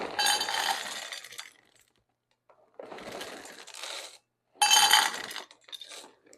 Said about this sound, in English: now we just have to stir in our chocolate chips and our pecans